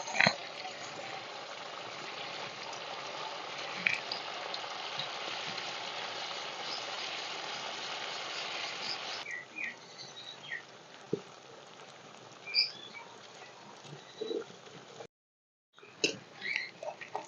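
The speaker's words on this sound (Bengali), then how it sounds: "আমি কিন্তু উল্টে পাল্টে হালকা বাদামি কালার করে ভেজে নিচ্ছি" Semolina rasmalai sweets frying in hot white oil in a kadai, with a steady close bubbling hiss that drops in level partway through, then scattered crackles and a brief silence near the end.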